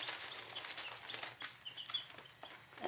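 Newly arrived hatchery chicks from a mail-order shipment peep and cheep in a busy, irregular chatter, fairly quiet with rustling and small flutters, no talking.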